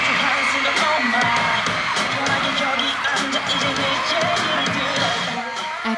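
Fans screaming, cheering and applauding at the Seoul Music Awards, a dense, sustained roar of high-pitched shouts and claps filling a large venue, loud throughout.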